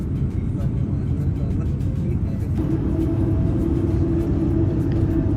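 Singapore Airlines Airbus A350-900 taxiing toward runway 25, heard from the cabin as a steady, deep rumble of engines and wheels. It continues unbroken, with a faint tonal hum entering halfway through.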